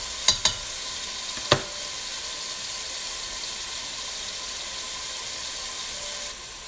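Three cloves of garlic fry in a pan for loubia, a steady close sizzle punctuated near the start by a few sharp clinks of stirring utensils.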